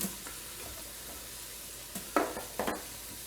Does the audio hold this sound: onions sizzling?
yes